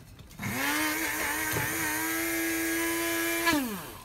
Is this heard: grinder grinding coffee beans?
yes